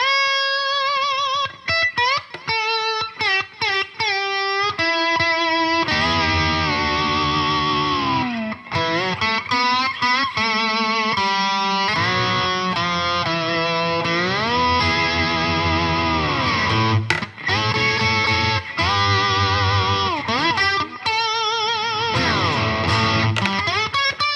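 Heavily distorted electric guitar, a Gibson SG Special, plays sustained chords and bending notes for a long stretch, loud and saturated with brief pauses between phrases.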